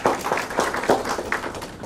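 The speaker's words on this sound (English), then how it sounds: "can you please give yourselves a round of applause?" Teachers at a symposium applaud themselves, a brief burst of close, fairly loud clapping with distinct individual claps.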